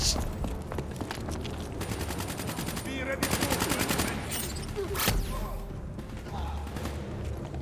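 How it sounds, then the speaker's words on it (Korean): Call of Duty: Black Ops 3 firefight on PC, with rapid machine-gun bursts and repeated gunfire layered over heavy booms of grenade explosions, loud and continuous throughout, with talk mixed in. "수류탄 몇개 던지는 거야"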